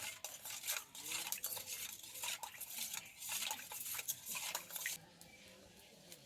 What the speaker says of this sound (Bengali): এবারে খুব ভালোভাবে সব কিছুকে মিশিয়ে নেব।